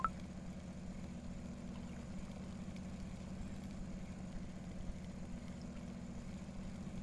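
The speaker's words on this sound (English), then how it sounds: "Oh yeah, I forgot to turn the engine off. That engine sounds kind of annoying." A boat engine idles in a fishing game set on the Norwegian Sea, giving a faint, steady low hum that drones unchanged throughout with no voices.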